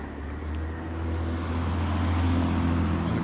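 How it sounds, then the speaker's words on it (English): Car driving past on a road during a nighttime firework shell session, a steady engine and tire rumble that swells louder as it approaches, heard alone without talking. "Got a car going by."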